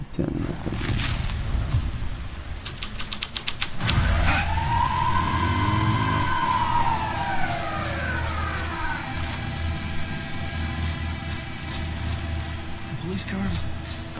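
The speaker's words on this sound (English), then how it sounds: "Police car?" A police car siren wails in the Alan Wake 2 video game, a loud rising and falling tone that sweeps up and fades over several seconds above a dense rumbling game background with voices.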